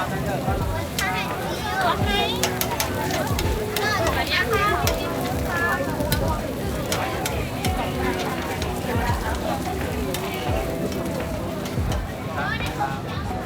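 Woks and grills at a bustling Bangkok night market: constant loud sizzling and frying with clanks of metal, mixed with crowd chatter and scattered voices all around.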